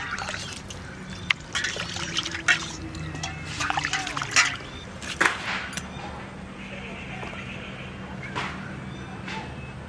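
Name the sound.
washing hilsa fish with water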